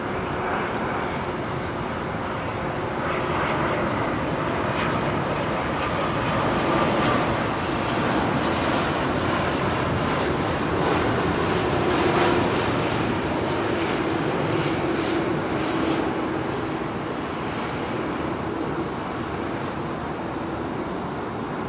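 A Biman Bangladesh Boeing 787 Dreamliner roars steadily at London Heathrow on runway 27L, a broad sustained jet-engine rumble heard from a distance with no voices.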